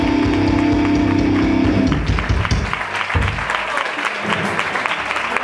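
A crowd applauds at a metal festival band contest, steady, loud clapping from many people. A sustained tone from the stage fades out early, and the clapping carries on alone for the rest of the clip.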